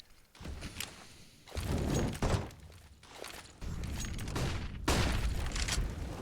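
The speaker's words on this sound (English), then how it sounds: "Molotovs and smokes get thrown" Molotovs and smoke grenades thrown in Counter-Strike on the Dust 2 map, heard as bursts of whooshing, shattering and hissing noise in several waves of loud, broadband clatter.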